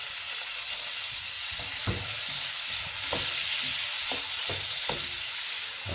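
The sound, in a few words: cherry tomatoes cooking in a pan over medium heat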